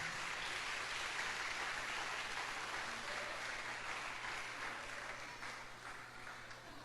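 Quiet, distant audience applause at an end-of-cycle school celebration, a steady even patter of many hands under a low hum, gradually fading over the final seconds.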